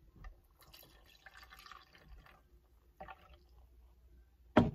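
Hot soapy water is poured into a cup in a quiet room, making a faint, intermittent trickle and splash, and a sharp knock comes at the very end.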